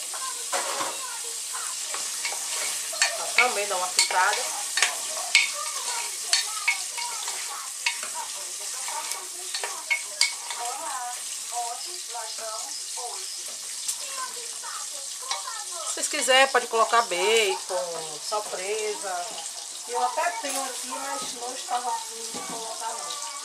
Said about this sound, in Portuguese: Então botei a carne, a carne de sertão. Vou botar a calabresa agora.